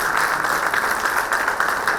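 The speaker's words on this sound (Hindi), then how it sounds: "एक बार जोरदार तालियों से आप उनका" An audience at an award event in an arts society hall breaks into loud, steady applause that fills the room without letup.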